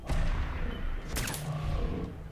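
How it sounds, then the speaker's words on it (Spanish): Bursts of rapid gunfire with booming impacts, continuous and fairly loud, from a battle in the video game Fallout 4. "Venga, más disparos, por si acaso."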